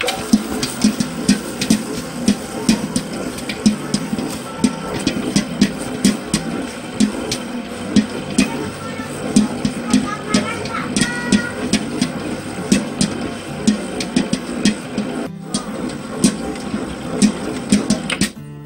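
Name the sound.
bread dough mixer running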